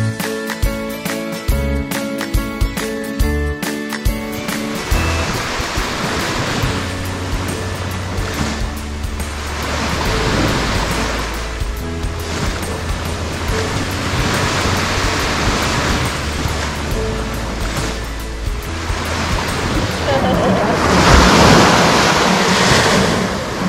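Ocean surf rolling onto the soft white sand of Teluk Batik beach in Perak, Malaysia, on a public holiday. The waves make a loud, continuous wash with wind buffeting the microphone, following a short tonal passage at the start.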